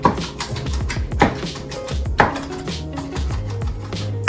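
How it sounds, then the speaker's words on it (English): A knife chops food while making spaghetti with clam sauce, giving a few sharp, loud, close chops at uneven intervals over a low background. "I'm just going to chop them up."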